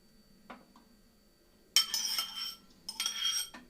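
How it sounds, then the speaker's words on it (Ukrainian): Whisk or spoon clinking against a bowl while mixing chocolate cupcake batter of beaten eggs, milk and melted margarine, two bursts of brisk scraping and tapping after a quiet start. "І все перемішуємо."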